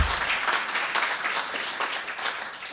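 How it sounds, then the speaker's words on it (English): An audience at an evening storytelling and poetry event applauds a performer, steady mid-level clapping from many hands filling the room for a few seconds. "please give another round of applause for Cam"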